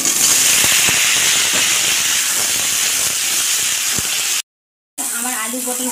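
Pieces of pointed gourd (potol) sizzle loudly in hot oil in a pan used for frying prawns, a continuous hiss with small pops that breaks off before someone speaks.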